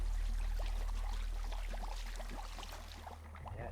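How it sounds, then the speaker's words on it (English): Hot water runs in the horror video game Don't Knock Twice: a continuous watery rush over a low, steady hum, slowly easing off toward the end, with no speech. "Okay, so we turned on the hot water."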